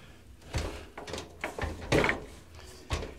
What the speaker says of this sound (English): These doors suck at closing.